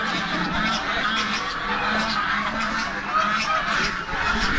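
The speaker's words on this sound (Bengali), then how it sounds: "এখানে কত সুন্দর হাঁসগুলো দেখো" Ducks honk and quack steadily in the background at moderate loudness. The calls blend into a continuous, noisy wash with no clear pauses.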